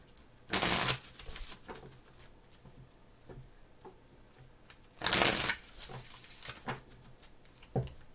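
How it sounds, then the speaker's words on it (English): Tarot cards are shuffled in two loud, riffling bursts a few seconds apart, close up, with soft card taps and handling sounds in the quieter gaps between them. "2 more shuffles, please."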